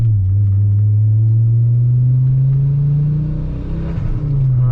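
An Audi UrS6 engine, tuned and running rich, pulls under acceleration with a loud, steady low drone whose pitch climbs gradually across the stretch, close and continuous with no talk over it.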